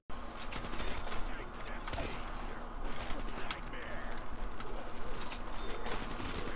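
Rapid chiming points sound effects pile up in Call of Duty Zombies on the Verrückt map, layered over continuous gunfire and game noise; repeated bright ticks run throughout the mix.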